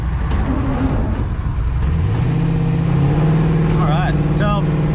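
An LS-swapped G-body car on 26-inch wheels rolling slowly, a low steady engine rumble close by with a rising tone midway, and someone talking over it.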